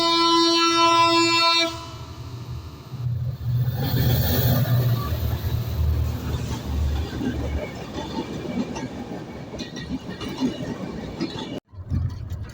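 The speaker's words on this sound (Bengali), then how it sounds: "ট্রেন বেচারা আমাকে না নিয়েই এখানে না দাঁড়িয়ে রাগ করে সোজা চলে যায়" A train runs straight through a station in Rajbari, Bangladesh, without stopping: a loud horn blast opens, then a long, heavy rumble of wheels and carriages rolls steadily past, fading briefly near the end.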